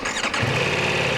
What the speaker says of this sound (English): Now I can start my bike.